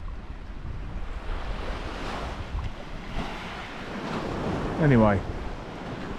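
Ocean waves wash onto a beach during a shore fishing session for bass and flounder, a steady soft roar under wind buffeting the microphone, with a voice speaking briefly near the end.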